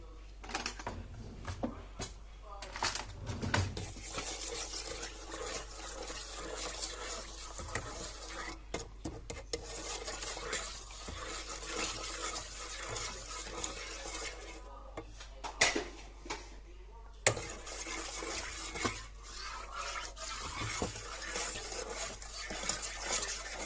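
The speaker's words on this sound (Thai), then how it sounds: "แล้วเดี๋ยวเราก็คนให้เข้ากันให้ละลาย" A spoon scrapes and clinks steadily against a bowl or pot while brown sugar and white sugar are stirred together to dissolve, with a soft continuous rattle and a few sharper knocks, faint and close, with no talking over it.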